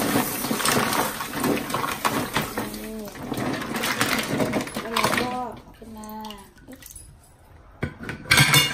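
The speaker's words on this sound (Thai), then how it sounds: "เราจะมาล้างครั้งที่3นะคะ" Large New Zealand green mussels are rinsed in a basin of water. Shells clatter and clink against each other and the bowl with splashing, and someone talks over parts of it before the sound quiets toward the end.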